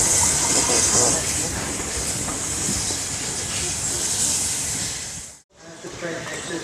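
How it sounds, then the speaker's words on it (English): A steam locomotive pulls out of the station during an autumn steam gala on the Mid Hants Railway. Loud, continuous hissing of steam rides over a low rumble, then drops out briefly near the end and returns. "The train exits the station. Please stand well back as the train exits the station."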